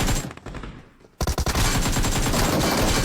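Rapid gunfire bursts in PUBG Mobile, including a shotgun, with loud, dense, repeated shots near and harsh. A brief lull is followed by continuous heavy firing.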